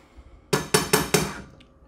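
A utensil knocks sharply against a cooking pot of meat for a protein stew, four evenly spaced, bright metallic clanks in quick succession, close and clear, then quiet.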